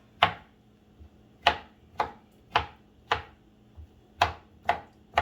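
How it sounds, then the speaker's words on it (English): A freshly sharpened knife chops plantain into cubes on a board, eight or so crisp, separate thuds at an uneven pace, close and fairly quiet with no talk. "So it's time to cut the plantain."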